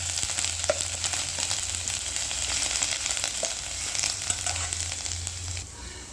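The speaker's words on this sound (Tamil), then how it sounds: "போட்டு இதை நல்லா வதக்கிக்கிறோம்." Ginger and garlic fry in a hot pan for a mushroom and peanut gravy, a steady close sizzle with faint stirring scrapes that eases off near the end; no one speaks.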